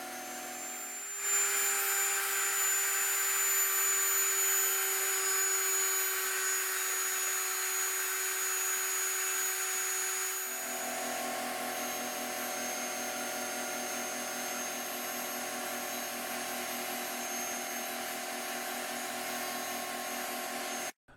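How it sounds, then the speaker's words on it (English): A steady mechanical whir runs the whole time; partway through, an air compressor's motor shifts in pitch and character as it cycles on and off, droning on without pause and without voices. "The noise you hear is my compressor cycling on and off in the background."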